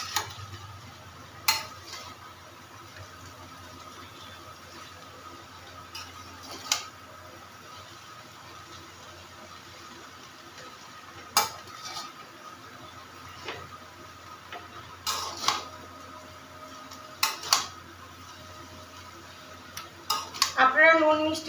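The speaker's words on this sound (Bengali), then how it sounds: "এবার আমি এটাকে একটু ভালো করে নাড়াচাড়া করবো, খুব ভালো করে মিক্স করে নেব চাউমিনটা।" A utensil clinks and scrapes against a pan as chow mein noodles are stirred and mixed, sharp metallic taps spaced irregularly over a quiet background hiss.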